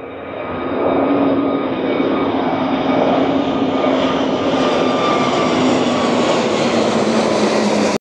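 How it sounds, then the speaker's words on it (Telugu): A fixed-wing airliner takes off at Madeira airport, its engines building from a rising roar into a loud, sustained drone with a climbing whine, close and unbroken, with no voices. "ఒక ఫ్లైట్ టేకాఫ్ తీసుకుంటుంది, వెనక ఒక ఫ్లైట్ ల్యాండింగ్ కూడా వస్తూ ఉంది"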